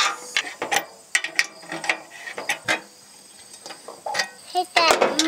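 A ratchet tightening the included bolt on a wall bracket for a mini split outdoor condenser, heard as short bursts of rapid clicking in irregular strokes, close and loud, with brief metallic knocks between.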